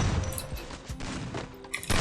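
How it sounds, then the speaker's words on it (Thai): Rapid bursts of video game gunfire, several sharp shots in quick succession over a steady background, ending with a louder volley. "ขอเปลี่ยนเสียงยิงปืนใหม่เลย แบบยิงปั๊บมีลูกกระสุนตกเลย"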